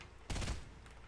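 A single short burst of Fortnite gunfire, a brief muffled volley that rings out once and fades into quiet game ambience.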